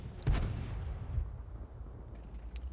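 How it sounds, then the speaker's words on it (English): A heavy tank cannon shot in World of Tanks rings out once with a loud, deep boom, then rolls off into a fading rumble with light engine noise behind it. "I believe he gets taken out really quickly here by the 50 TP with a shot from the ramp"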